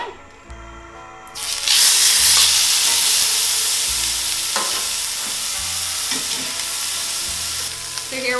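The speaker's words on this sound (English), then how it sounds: "So here we're just searing this on one side." Meat hits hot oil in a pan over medium-high heat with a loud, steady sizzle that jumps up after a quiet opening second, then holds at a broad hiss with a few soft clinks, and no one speaks.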